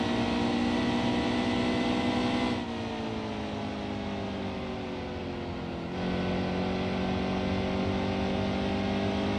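Race truck engine held at full throttle in the NASCAR Heat 2 video game at Phoenix, a loud steady high-pitched drone whose pitch drops and climbs again with shifts, continuous and alone.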